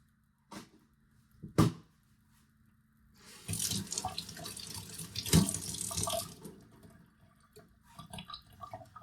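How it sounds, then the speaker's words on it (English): A sink tap runs while hands are washed, with a couple of knocks first, then a rushing, splashing stream of water for about three seconds before it is shut off and a few small clunks follow. "wash my hands really quick"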